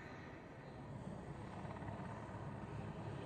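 Military aircraft departing at the 2012 Waddington airshow, a distant, steady engine roar with a dense broadband rumble that holds level throughout, with no voices.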